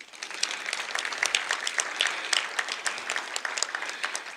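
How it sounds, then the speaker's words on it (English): Audience applause at an ARTC presentation honoring Mr James Amann, a dense steady crackle of many hands clapping that carries on for the whole stretch at an even level, with no voices. "why don't we applaud her one more time?"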